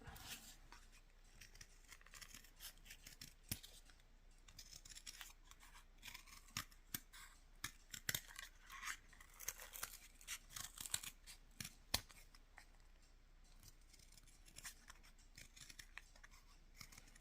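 Scissors cutting paper for handmade buttons, a long run of small, crisp snips and clicks at an uneven pace, close and fairly quiet, no talking.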